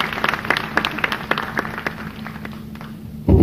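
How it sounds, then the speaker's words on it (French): An audience applauding at a World Book Day event in Guinea, scattered claps fading over a few seconds before a louder thump at the end. "Je vous demande de les applaudir"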